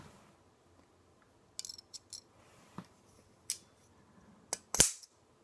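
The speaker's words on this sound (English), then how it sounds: "It is an automatic knife." A Boker Kalashnikov automatic knife makes a series of sharp metallic clicks and snaps, one much louder spring-fired snap near the end, faint and close with no talking.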